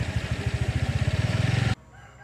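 An unfamiliar bird on Nusa Penida, Indonesia, gives a loud, close call made of a fast, steady train of pulsing notes for under two seconds, then stops abruptly, leaving faint background.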